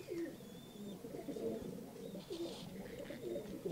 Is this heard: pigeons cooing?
yes